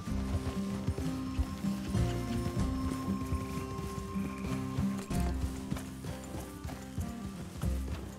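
Horses' hooves clip-clopping in Red Dead Redemption 2, a steady close run of hoof beats with occasional snorts over soft background music, continuous throughout.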